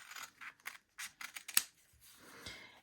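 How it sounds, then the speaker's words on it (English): Scissors snip through quilting fabric for a quilt-as-you-go dish mat in a handful of close, crisp cuts, one sharper and louder than the rest, spread over a few seconds with quiet gaps between. "I can use scissors for this part because this part is 1 snip usually"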